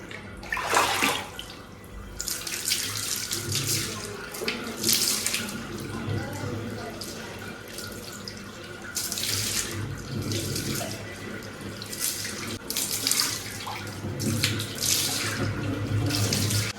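Water running steadily from a tap or shower while conditioner is rinsed out of curly hair, a continuous rushing splash that swells and shifts in loudness throughout.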